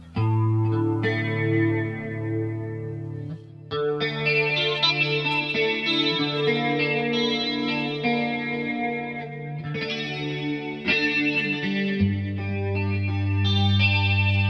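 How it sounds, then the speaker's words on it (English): Clean 1980s-style electric guitar played through an AmpliTube 5 amp-sim chain with a rectifier amp and traditional cabinet, chorus-like shimmer and sustained ringing chords over a steady low bass note, continuous and fairly loud. "This is how the whole chain sounds. So basically, nice 80s clean tone."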